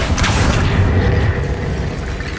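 Incendio fire spell cast in the video game Hogwarts Legacy, a deep rumbling whoosh of flame that bursts and fades over a couple of seconds.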